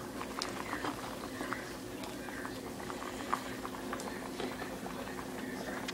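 Noodles boiling in a pot, a continuous bubbling churn with scattered pops and light clicks, close and moderately loud.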